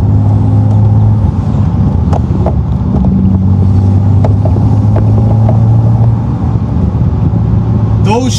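BMW Z4 with the N54 engine and a DCT gearbox, tuned, accelerating hard through quick gear shifts, a loud, close, droning engine roar with brief dips at each shift.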